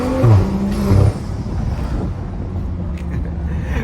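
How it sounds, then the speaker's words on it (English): BMW F30 335i with a Stage 2+ tune, engine droning steadily with a brief rising rev in the first second, then settling into a rumbling cruise with some wind noise. "I'm making a bunch of noise with my car"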